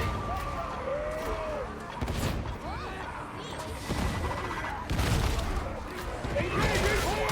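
Hand grenade blasts and combat noise in the video game Darktide, several sharp booms and crashes amid constant gunfire, with voices talking throughout.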